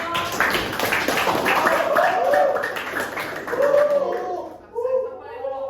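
Audience clapping hands on request during a talk in Indonesian, a burst of quick claps at the start followed by a voice speaking over fading taps, moderately close.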